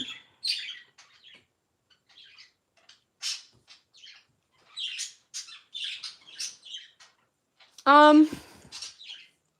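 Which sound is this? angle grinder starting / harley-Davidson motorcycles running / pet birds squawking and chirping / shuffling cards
pet birds squawking and chirping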